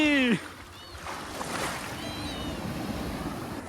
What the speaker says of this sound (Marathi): मोठा लाट आला मोठा लाट आला ते मोठी लाट इली